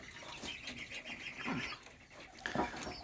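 Pigeons settle in for the evening at their loft, giving soft, scattered calls and faint flutters over a low, steady outdoor background, with a couple of slightly louder bursts near the middle and end.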